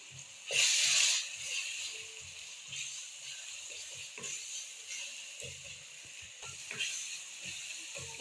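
Chopped onions, tomatoes and large green chilies frying in a pan, a soft sizzle with a louder burst near the start and intermittent light stirring scrapes, fairly quiet overall.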